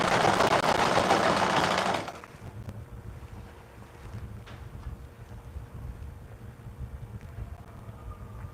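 A sewing machine runs in a fast, steady whir while stitching a simple skirt with an elastic band, loud and close for about two seconds, then stops, leaving quiet room noise with faint handling sounds.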